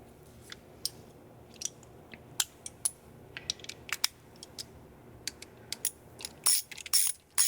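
A ratchet clicks in short, sharp bursts while tightening the front peg of a Harley Davidson Sportster, quiet and close, with scattered clicks building to denser ratcheting near the end.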